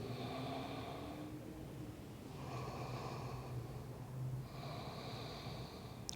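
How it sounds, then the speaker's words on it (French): Slow, deep breaths during an evening vinyasa yoga pose, three drawn-out inhale and exhale cycles with airy, slightly nasal texture, close and steady with no talking. "Encore 3 respirations."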